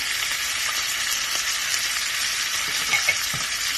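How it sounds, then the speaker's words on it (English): Crescent-sliced onions fry in butter with balsamic vinegar and brown sugar in a pan, a dense continuous sizzle with a few soft stirring knocks, close and loud, no talking. "now putting our moon-shaped onions into the pan along with our balsamic vinegar, our brown sugar"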